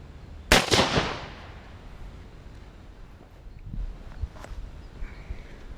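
A single loud 12 gauge shotgun blast rings out near the start, its report trailing off over about half a second. Fainter thuds and outdoor background noise follow.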